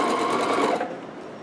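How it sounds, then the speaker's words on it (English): A sewing machine stitches fabric at speed, a close, loud, fast rattling hum of needle strokes that slows and eases off near the end, with no talking. "I'm sewing real quickly."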